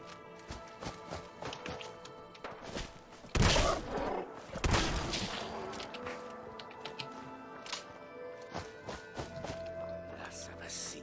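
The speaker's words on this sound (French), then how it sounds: "Ouais, il y a des coups de feu." A few sharp gunshot bursts crack out near the middle over a busy Fallout 4 game soundtrack with steady music and clicks, and a voice talks throughout.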